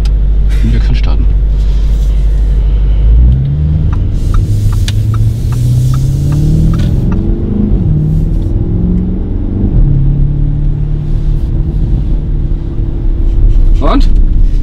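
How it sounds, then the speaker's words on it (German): Lamborghini Urus engine at full throttle on a test drive, a loud close rumble rising through revving sweeps, with voices talking over it. "Und jetzt können wir praktisch Vollgas aus."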